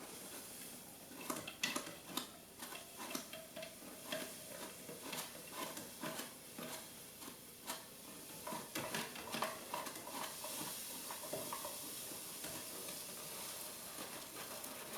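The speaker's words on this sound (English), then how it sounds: "as we're pouring this developer in, we want to just circulate the liquid" C-41 developer liquid stirred in a 4x5 film processing tank, giving faint, irregular swishing and clicking splashes over a steady hiss.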